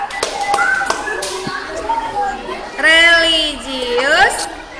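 A school class performs the tepuk PPK chant, with sharp, rhythmic group claps mixed with children's voices chanting together in a classroom, loud and close.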